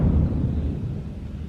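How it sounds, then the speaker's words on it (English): A deep, rolling rumble of thunder, loudest at the start and slowly fading over a second and a half, heard from indoors. "That was the thunder."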